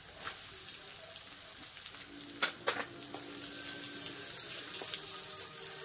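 Onion frying in oil for Maharashtrian masala rice makes a steady, moderate hiss and sizzle close by, with a few brief clinks of a utensil and no talking.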